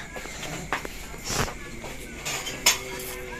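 Ingredients for pan-cooked tilapia are mixed in a bowl, with intermittent clinks and scrapes of utensil on dish at close range, and a voice speaks faintly in the background.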